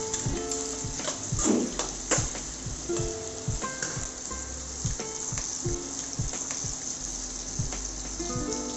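Seven dried red chillies sautéing in a pan for egg masala, a loud continuous sizzle and crackle punctuated by rhythmic scraping and stirring strokes, heard alone without talk.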